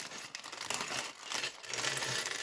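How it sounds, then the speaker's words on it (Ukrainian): Small plastic packets from a Minecraft Nether set are unwrapped, giving close, faint, continuous crinkling and rustling with brief louder crackles, no voices. "І розпаковуємо наші пакетики."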